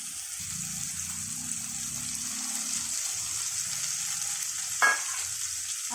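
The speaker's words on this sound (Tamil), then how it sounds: "இந்த எண்ணெயிலே கொஞ்சம் ஒரு நிமிஷம் இதை வதக்கட்டாங்க அந்த மசாலாலாம்." Ground masala frying in hot oil for a soya chunk gravy, a continuous bright sizzle up close with a brief sharp scrape of a spoon near the end, no talking.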